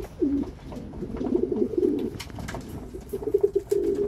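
Homing racing pigeons coo near the listener during a feeding session, with soft rolling calls rising and falling over light shuffling and fluttering, and no voices.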